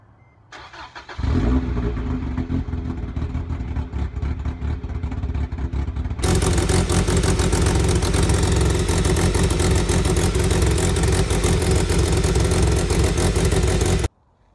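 A car engine cranks and starts after a serpentine belt replacement, then keeps running with a steady, loud idle roar that continues for over twelve seconds before cutting off.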